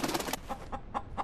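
A chicken clucks in a short, quick run of choppy notes that thin into a few separate clucks, fairly quiet and close, with no voices.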